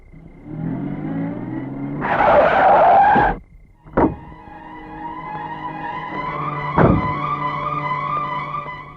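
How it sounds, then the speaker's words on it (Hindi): Loud screech of car tires skidding as the car brakes hard to a stop in a Hindi film scene, followed by a sharp thud and a steady engine hum underneath. "क्या बात है रघु, गाड़ी क्यों रोक दी?"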